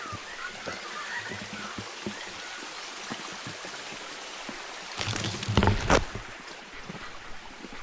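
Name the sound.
bird calls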